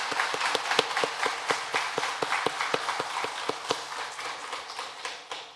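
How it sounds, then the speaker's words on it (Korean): A church congregation at a Sunday service claps together to glorify God, a brisk, even rhythm of sharp beats that fills the room, steady and fairly loud, with no talking over it. "우리 함께 박수로 하나님께 영광의 박수를 올려드리겠습니다"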